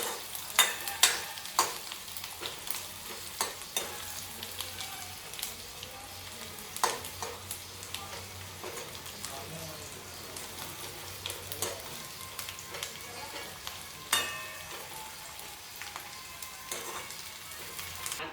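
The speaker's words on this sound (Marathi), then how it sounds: "कांदा टाकते कांदा चांगला लाल होऊ देते" Chopped onion frying in hot oil for a spiced sev curry, a steady low sizzle with scattered pops and occasional stirring clicks, continuous and fairly quiet with no voices.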